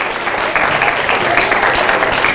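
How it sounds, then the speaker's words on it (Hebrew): Audience clapping at a lecture, a dense and steady burst of applause held at constant loudness for a couple of seconds, close and full. "מגיע למחיאות כפיים פה גם"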